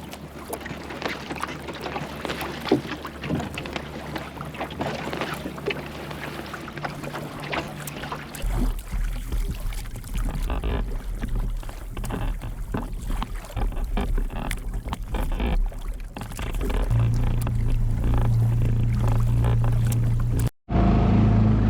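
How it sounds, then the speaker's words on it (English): A steady low engine drone from a sailboat motoring into Plymouth Sound, with water rushing and sloshing against the hull throughout, and no voices. "as you can hear, I'm just motoring back across into Plymouth Sound"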